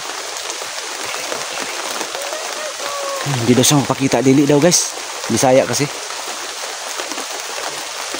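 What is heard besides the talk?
heavy rain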